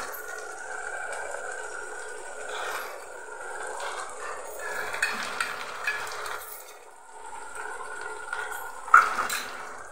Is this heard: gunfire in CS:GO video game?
no